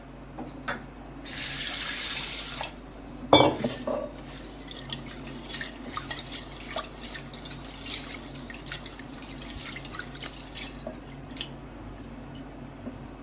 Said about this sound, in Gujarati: એ દાળને આપણે સરસ રીતે 2-3 પાણીથી ધોઈ લઈશું।